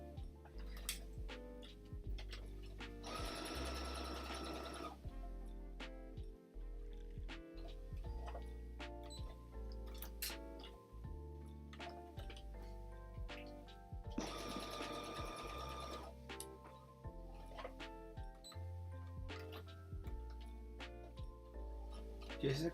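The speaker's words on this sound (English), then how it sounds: "when I go around a corner, a tight corner especially, or a curve, I still sew slowly" A sewing machine stitches a lip ice keyring slowly in bursts, its needle whirring for a few seconds at a time with quiet clicks and pauses between runs; no talking.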